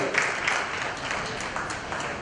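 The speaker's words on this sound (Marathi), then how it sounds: "आणि त्याकरता सगळ्यांनी टाळ्या वाजवल्या पाहिजे." Applause from a crowd at a friends' reunion get-together, a steady wash of many hands clapping at moderate volume that holds evenly throughout without voices over it.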